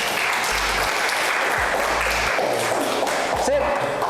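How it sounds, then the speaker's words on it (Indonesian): An audience at a photography lecture on exposure applauds in a continuous burst lasting about four seconds, with a few low thuds mixed in. "Oke, beri tepuk tangan."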